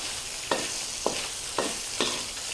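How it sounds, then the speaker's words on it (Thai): Pork belly frying in oil over medium heat to render its fat, a steady bright sizzle broken by four evenly spaced stirring scrapes, close and continuous. "ใช้ไฟกลางๆ ในการเจียวน้ำมัน ในหมูสามชั้นเนาะ"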